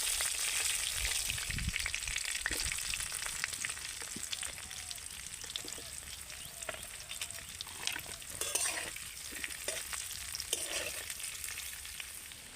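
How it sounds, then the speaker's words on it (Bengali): Okra frying in a pan of hot oil for a bhindi masala curry, a steady close crackling sizzle that runs the whole time with occasional stirring scrapes and louder spatters. "ঢেঁড়সটা কিন্তু ভাজা হয়ে গেছে"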